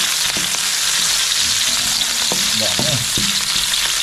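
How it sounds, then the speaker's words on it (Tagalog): Ginger, garlic, onion and chili sauté in a hot pan with a steady, loud sizzle, punctuated by a few faint clinks of stirring; a brief word of speech slips in near the start. "Gisa na po tayo. Yan ang ating luya. Bawang sibuyas siyempre."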